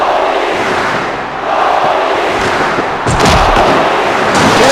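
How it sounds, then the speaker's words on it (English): A wrestling crowd roaring loudly for Komodo Joe, a dense, continuous wall of cheering and shouting that swells louder in the final seconds. "this crowd really cheering for Komodo Joe"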